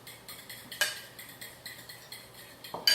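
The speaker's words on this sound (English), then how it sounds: "And that's whisk it with a fork." A fork whisks tahini in a small bowl, quiet rhythmic clinks and scrapes repeating about every quarter second, with a couple of sharper taps against the bowl's rim.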